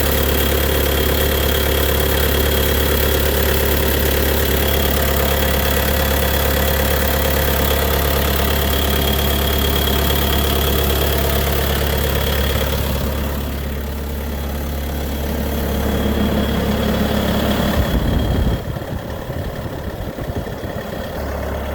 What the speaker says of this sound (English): I got it started and warming it up.